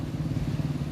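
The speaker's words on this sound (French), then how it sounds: "C'est un bruit de moto derrière moi." A motorcycle engine passes behind someone outdoors, a faint, brief, even drone with no voices.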